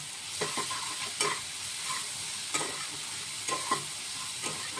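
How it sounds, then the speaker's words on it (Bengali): Ginger-garlic paste and green chili paste stir-fried in a pan, with a steady sizzle broken by several sharp scraping strokes of a spoon at irregular intervals, close and fairly quiet, no talking. "এবার এটাকে আমি একটু ভালো করে কষাবো, আদা রসুনের গন্ধটা।"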